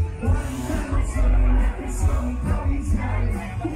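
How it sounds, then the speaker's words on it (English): Crowd at an outdoor rock concert on a Spanish island, a dense roar of cheering and yelling voices that swells and pulses over a low booming bass from the music. "Look at the crowd. They're very into it."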